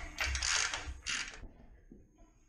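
A ratchet tightens bolts on a car transmission during a kit car build, giving two short bursts of metallic clicking, close and fairly quiet, followed by a faint clunk.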